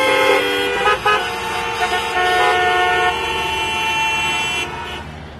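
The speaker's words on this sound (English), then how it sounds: "Here, people honk even when the signal is red." Several car horns honk at a red signal in Mumbai traffic, long overlapping tones and toots layered loudly over the hum of road vehicles, fading near the end.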